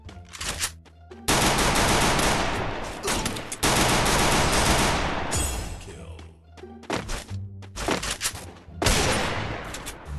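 Loud video-game gunfire in Free Fire breaks out in long automatic bursts and heavy thuds, separated by short gaps, with a few single shots near the end.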